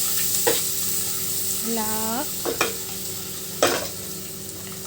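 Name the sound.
masala frying with tomato and ginger-garlic paste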